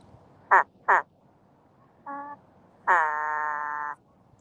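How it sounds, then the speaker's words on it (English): A squeaky toy duck gives two short honks, then a brief buzzy quack and one longer drawn-out squeak, loud and isolated against a quiet background. "Ducky, ducky. Doesn't even sound like a duck."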